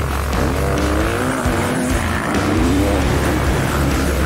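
Motorcycles roar off the line together at the start of a KENDA SRT hare and hound off-road desert race at Panaca, a loud, sustained, dense engine din from a pack of bikes with no pauses.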